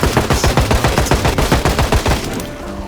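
Rapid automatic fire from an M16 assault rifle in the Project Zomboid video game, a dense steady stream of loud shots that stops shortly before the end.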